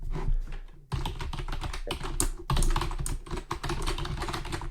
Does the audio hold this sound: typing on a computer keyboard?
yes